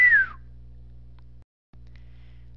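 A single brief whistle-like tone sweeps downward in pitch at the start, followed by a low steady hum that cuts out briefly and resumes, all fairly quiet.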